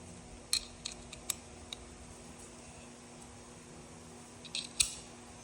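Small metal clicks and snaps from reinstalling the ejector in a Springfield Kuna pistol, a few sharp close taps early, then a quiet gap and a brief cluster near the end, with no talk.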